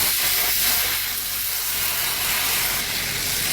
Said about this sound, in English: After the sugar has dissolved, we're going to add 1 tablespoon of butter. And very carefully give this a stir.